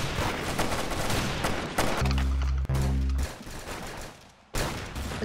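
A futuristic gun firing in the video game Arsenal: rapid bursts of loud, close gunfire, a brief humming tonal blast in the middle, then more shots ending in a sharp final burst.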